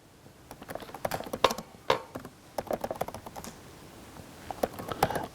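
Computer keyboard typing up close: bursts of quick, uneven keystrokes with short pauses between runs, clicking clearly with no talk.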